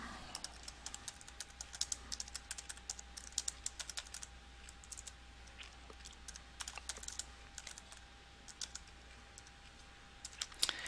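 Someone types on a computer keyboard in a quiet office, with steady soft key clicks and occasional sharper taps continuing throughout at a low level.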